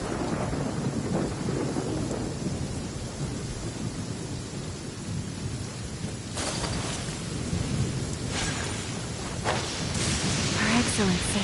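Stormy weather in the Genshin Impact video game: steady rain hiss with low thunder rumbles, and sharper cracks near the end, all under a continuous wash of noise.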